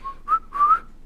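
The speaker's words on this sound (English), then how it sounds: "I can't even whistle." A person tries to whistle, producing two short, breathy pitched tones with a wobbly rise, close and fairly quiet, alone without speech.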